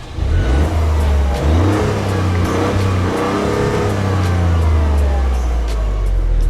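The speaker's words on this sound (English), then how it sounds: "It sounds rubbish on the outside." A Toyota GR Yaris of about 260 horsepower is heard from outside as its engine revs up and down in several loud, close surges, and a steadier drone settles in toward the end.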